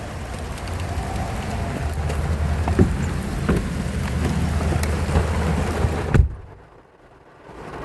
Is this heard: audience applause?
no